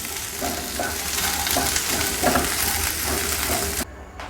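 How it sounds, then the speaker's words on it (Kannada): Okra fries in oil for a bhindi dish, a close, steady crackling sizzle with faint stirring, running for several seconds before cutting off abruptly near the end. "ಬೆಂಡೆಕಾಯಿ ಫ್ರೈ ಮಾಡ್ಕೊರೋಣ್ರಿ. ಅದು ಫ್ರೈ ಆಗೋಕೆ ಒಂದು ಸ್ವಲ್ಪ ಎಣ್ಣೆ ಹಾಕೊಡ್ರಿ"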